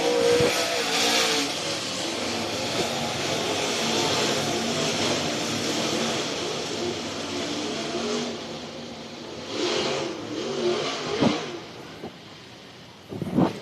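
Race cars roll and idle into line for a heat race at Whynot Motorsports Park's Fall Classic, a sustained broad engine drone with rising revs and a few sharper bursts toward the end, heard at moderate distance.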